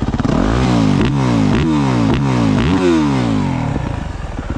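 Up close, a Yamaha YZ450F GYTR motocross bike revs hard through repeated rising engine sweeps, about five quick throttle pulls in a row, loud and raw, then settles toward the end with no talking.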